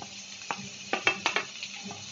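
Chopped onion and green chilli going into a hot pan of roasted garlic for Malvani-style okra bhaji, a soft sizzle broken by a few clinks and scrapes of a utensil against the pan.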